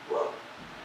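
A single short dog bark, fairly faint and brief, rising out of a quiet indoor room with no one talking.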